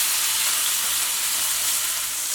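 Steak searing in hot oil in a wok, a dense, steady, loud sizzle and hiss of frying filling the whole stretch without pause.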